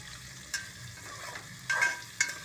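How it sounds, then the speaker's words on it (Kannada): Onions frying in a tempering of hot oil with star anise and fennel seeds for a rice bath, a soft steady sizzle with a few sharp stir clatters, close and without talk. "2 ಈರುಳ್ಳಿ ಹಾಕ್ತಾಯಿದ್ದೀನಿ ಒಗ್ಗರಣೆ ಒಳಗಡೆ"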